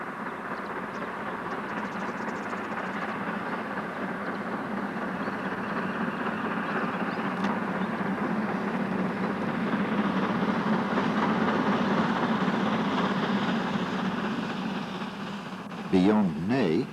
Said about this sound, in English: our train thunders along towards Ney's Siding